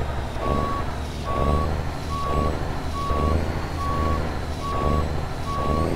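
A truck reversing in the game American Truck Simulator, its backup alarm beeping evenly about seven times over a steady low engine drone.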